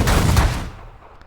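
An energy blaster in The Last Federation space strategy game fires at ships: a quick cluster of loud, punchy synthetic blasts that fade out within about a second.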